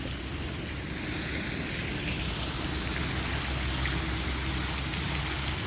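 A fountain in Rimini after spring rain splashes steadily, a dense, even wash of falling water that stays close and constant throughout, with no voices.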